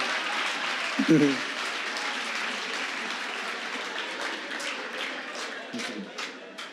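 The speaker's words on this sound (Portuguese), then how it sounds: "Vamos aplaudir Jesus" A church congregation at a leaders' retreat claps in praise, a broad sustained wash of applause from a large room, with a couple of brief low thumps or voices breaking through.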